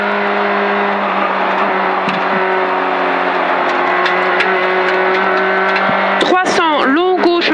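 A Peugeot 106 Class 2-5 rally car on a stage at Rallye Tenneville 2022, running on cold tyres. Its engine holds a steady, loud, close drone from inside the cockpit while the co-driver calls pace notes throughout.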